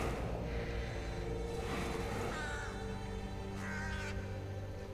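Crows cawing in the video game Darksiders 2, two or three raspy calls rising out of a steady low ambient rumble, moderately distant.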